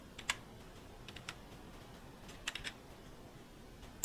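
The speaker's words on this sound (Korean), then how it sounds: "팜이라고 한번 쳐보겠습니다" Soft keystrokes on a computer keyboard, a few scattered short clicks spread over a quiet stretch, faint and close with a low background hiss.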